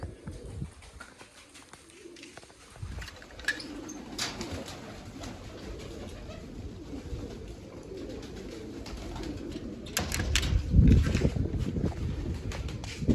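Pigeons coo softly and repeatedly while feeding on scattered grain, among rustling and fluttering, with a breezy background that grows louder toward the end.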